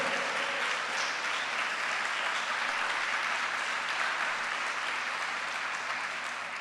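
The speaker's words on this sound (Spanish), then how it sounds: "Y si va a aplaudir a Dios, pues hágalo fuerte." A church congregation gives loud applause to God during a sermon, a steady, dense wash of many hands clapping that holds evenly for several seconds.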